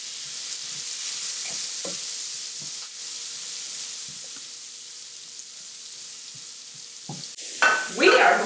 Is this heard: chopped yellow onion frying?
yes